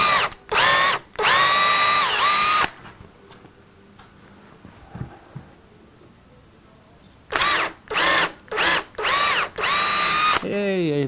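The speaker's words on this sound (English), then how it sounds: "And I think we're done with the drilling." A power drill boring holes into a wooden table top in a workshop, loud whining bursts that spin up and stop, a cluster of short runs, a quiet pause with small knocks, then another series of bursts.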